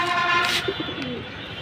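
Deep blue Jabra Punky pigeons give a short, close coo over steady background noise, with a few faint chirps.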